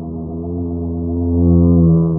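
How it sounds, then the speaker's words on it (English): A mosquito buzz pitched down two octaves: a low, steady droning buzz with layered harmonics, swelling slightly louder toward the end, like an insect whine slowed far down. "This is how the mosquito sounds when lowered by 2 octaves."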